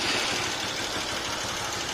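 A tuned engine with a 4 mm piston, auto-rotating camshaft, prepared cylinder head and original exhaust idles in a steady, busy rumble, the valves knocking slightly under a wash of broadband noise.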